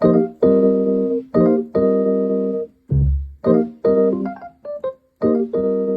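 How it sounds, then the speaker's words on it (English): Solo piano in a jazz style sounds a series of sustained quartal-voiced chords in a syncopated rhythm, each struck cleanly and ringing, with a low bass note and a short melodic run between them, close and fairly loud. "basically that sound, it's just this quartal like"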